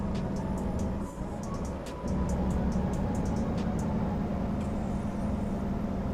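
A truck in American Truck Simulator rumbling along the road shoulder, a steady low engine and tire drone with a rough buzzing texture and faint clicks above it.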